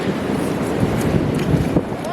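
Strong wind blows at low tide on the Oregon coast, buffeting the microphone in a continuous loud roar with rumbling gusts and surf.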